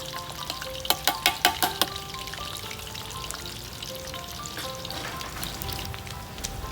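Mackerel frying in hot oil for Thai-style fried fish gives a steady close crackling sizzle, with a quick run of sharp utensil clicks early on and no talking.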